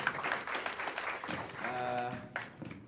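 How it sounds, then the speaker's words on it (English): A crowd at a stakeholder engagement forum claps for a few seconds, moderately close, while a voice speaks over the applause. "Round of applause for Bosco."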